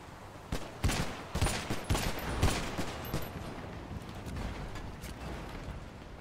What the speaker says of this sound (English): I'll start opening fire.